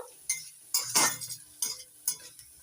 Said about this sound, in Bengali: এবার একটু নাড়াচাড়া করে হালকা করে ভেজে নেব